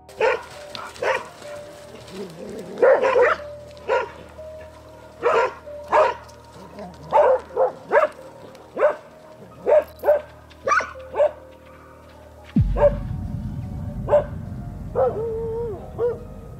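Several dogs barking as they chase a bear near the woods: repeated loud, sharp barks and yips in uneven bursts, with a low rumbling noise rising near the end.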